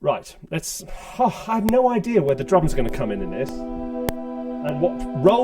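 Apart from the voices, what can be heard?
No everyday noises stand out.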